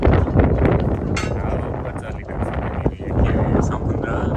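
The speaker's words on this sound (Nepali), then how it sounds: "हावा चलिरहेको" Wind blowing at the seashore on Mustang Island, Texas, rushing hard and steadily across the microphone with rough, buffeting gusts, close and loud throughout.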